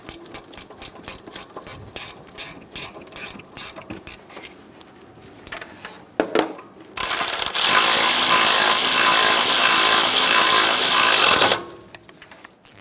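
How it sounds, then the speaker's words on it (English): Ratchet wrench clicking in quick bursts while snugging alternator bracket bolts on a 1988-1999 GMC K1500 5.7L V8, followed by a long, loud, steady burst of power tool whir before the ratcheting resumes. "Go through and snug down all of the bolts."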